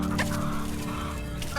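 Chickens being fed on a backyard farm cluck steadily over a constant low hum, with a few louder, brighter clucks standing out near the start and end; no one speaks.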